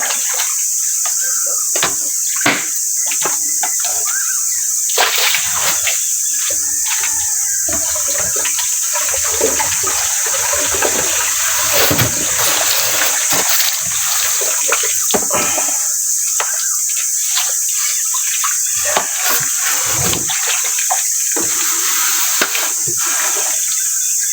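Freshly cleaned fish being rinsed in a basin of water, with continuous splashing and sloshing at close range, punctuated by sharper splashes, while insects or crickets buzz steadily in the background.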